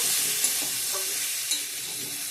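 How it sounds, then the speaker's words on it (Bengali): Spiced paste sizzling in hot oil in a home kitchen, a steady broad hiss with a couple of light stirring clinks, close and continuous, with no voices. "পেস্ট করা মশলাটা দিয়ে একটু ভালো করে কষিয়ে নেব"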